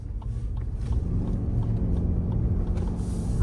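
Lexus RX plug-in hybrid with a 2.5-litre four-cylinder cruising at around 60–70 mph, a steady low rumble of road and tyre noise with a faint hum inside the cabin, constant and unbroken.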